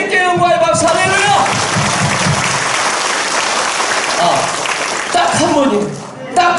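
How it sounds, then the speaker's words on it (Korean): A large church congregation bursts into sustained applause, a dense wash of clapping that carries on for several seconds, with a preacher speaking over it at the start and end. "우리 주님께 영광의 박수 할렐루야."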